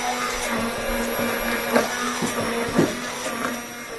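A blender whirs steadily while whipping homemade mayonnaise, a continuous motor hum with a few brief surges and rattles, close and moderately loud.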